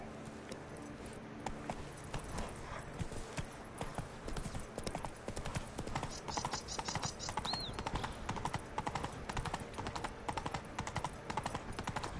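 Roach, a horse in The Witcher 3: Wild Hunt, gallops with a steady, loud clip-clop of hooves throughout, over layered game ambience and a brief high whistle-like tone, with no talk.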